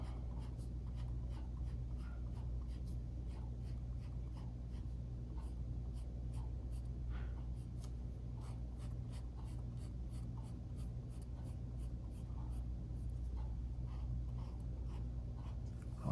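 A pen draws a stripe pattern on paper in quick, steady scratchy strokes, close and fairly quiet, repeating for about sixteen seconds over a low room hum.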